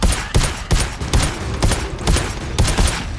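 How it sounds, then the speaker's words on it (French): Rapid shotgun blasts in the video game GTFO, a dense string of loud sharp shots at an irregular, quick rhythm filling the whole stretch with no talking over it. "Je vais prendre le fusil à pompe aussi."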